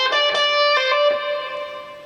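An electric guitar plays a blues-rock lead lick in the style of Mick Taylor: a few plucked notes with a hammer-on, then the note cut short and left ringing in a reverb echo that fades out, clean and fairly loud.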